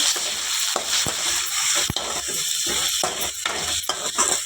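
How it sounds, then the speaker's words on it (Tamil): Chopped tomatoes go into a pan of sautéed onion and garlic, and a steady, fairly loud sizzle follows, broken by sharp scraping and clicking stirring strokes. "இப்போ நான் தக்காளி சேர்த்துக்க போகிறேன்"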